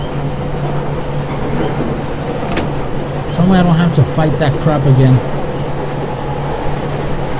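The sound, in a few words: subway train in the video game Silent Hill 3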